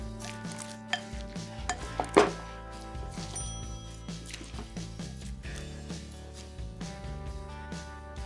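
A salad of fried eggplant, carrot and sliced pepper is stirred in a bowl, with a few close thunks and scrapes of the utensil early on, then softer mixing.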